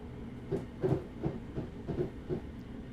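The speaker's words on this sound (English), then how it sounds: "release the brakes and allow the train to coast" Class 313 electric multiple unit coasting along rails near Welwyn Garden City in Train Simulator 2017, with a steady low rumble and a regular series of soft wheel-joint thumps about every third of a second, alone without talk.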